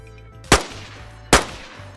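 Two sharp, loud gunshots a little under a second apart in the survival video game DayZ, each with a quick decaying tail over a low engine-like drone.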